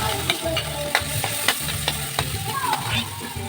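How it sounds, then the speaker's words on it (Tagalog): Chopped garlic sizzles and fries steadily in hot oil in a heated pan, with a few brief stirring clinks cutting through the continuous crackle. "Igisa na natin ang bawang."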